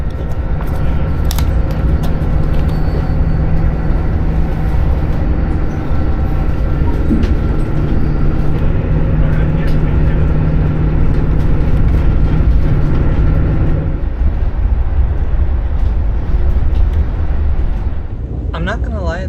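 Steady rumbling of Amtrak's new Acela high-speed train in motion, heard from inside, a continuous loud low roar with rattling and clatter from the carriage, shifting tone near the end.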